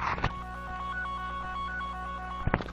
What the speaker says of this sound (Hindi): ये आप देख सकते हैं कि मेरे मोबाइल में अभी रिंग जा रहे हैं